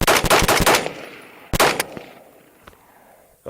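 Rapid bursts of gunfire from a Cox Arms EMR-1 AR-15 rifle, a quick string of loud close shots followed by a second short burst, each trailing into echoing decay outdoors.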